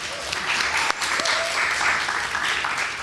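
An audience at a wellness industry panel claps steadily throughout, a dense, even wash of applause with no pauses.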